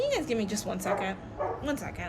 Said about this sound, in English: he's gonna start barking anytime now, and here he goes